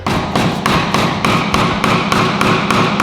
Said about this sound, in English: This is gonna take a lot of hammering.